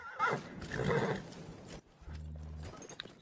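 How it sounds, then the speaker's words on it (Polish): A horse in the Battlefield 1 video game neighs with a loud whinny, then hooves clip-clop close by. The sounds are clear and stand alone. "O, mamy konia, elegancko."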